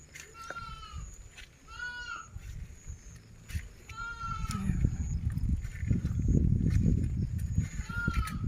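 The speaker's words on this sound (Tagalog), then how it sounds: "mga kambing." Goats bleating outdoors after a typhoon, several wavering calls repeating every couple of seconds, fairly near, over a growing background rush of rain or wind.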